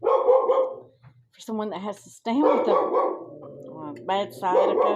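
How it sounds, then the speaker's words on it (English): A dog barks loudly in short bursts inside a home kitchen, repeated yips and barks mixed with someone talking over them. "Excuse the dog. She loves to bark."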